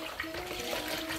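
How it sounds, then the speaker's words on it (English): A hand swirls diluted shampoo through a tub of water for washing a giant teddy bear, giving a short, steady sloshing and trickling wash of liquid sound at close range. "I'm just gonna use my hand to stir it around"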